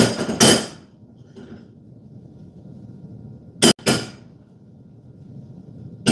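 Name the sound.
shaking a skillet of cornbread batter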